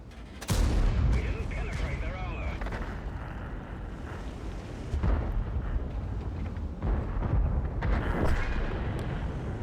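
Heavy tank cannon shots boom out in a tank battle game, several loud blasts spaced a few seconds apart over rumbling engine and battlefield noise, with a voice talking over it.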